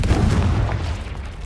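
A Confringo blasting curse explodes in Hogwarts Legacy: a loud, deep boom that rumbles heavily from the start and slowly thins out over a second and a half.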